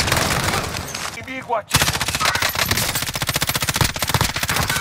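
Rapid automatic gunfire in Call of Duty: Advanced Warfare aimed at the player, a dense, loud stream of shots that pauses briefly, then resumes as sustained bursts, with a voice speaking over it.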